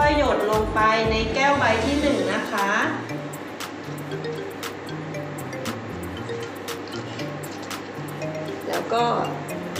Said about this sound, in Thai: เด็กๆค่อยๆเทน้ำใส่ลงไปนะคะ